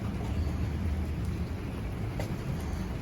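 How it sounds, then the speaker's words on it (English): Steady rain falling outdoors in downtown Lincoln in the evening, a constant dense hiss with low rumble, no voices. "All right, so it's raining out here."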